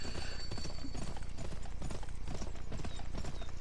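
Rapid galloping hoofbeats of a horse in the Western video game GUN, a steady drumming clip-clop running throughout over a continuous game soundscape.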